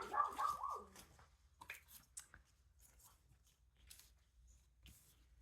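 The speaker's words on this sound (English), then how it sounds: "There's my dog." Rusty, a pet dog, lets out a short, close bark right at the start, followed by faint rustling in an otherwise quiet room.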